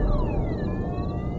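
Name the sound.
car alarm sounding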